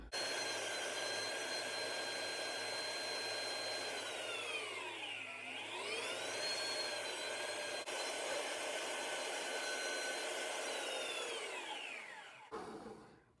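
Electric stand mixer whirring steadily as it beats cinnamon snickerdoodle bread batter, its motor pitch dipping briefly midway then recovering, running alone until it switches off at the end.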